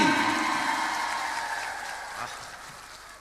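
Audience applause at an Indonesian religious talk evening, a broad wash of clapping that starts full and slowly fades over about three seconds, with no voice over it.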